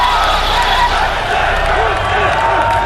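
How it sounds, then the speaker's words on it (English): A large crowd roars and cheers continuously at a 2006 EVO Street Fighter tournament match, a dense, loud wash of voices with no break. "Hold on, listen to that crowd."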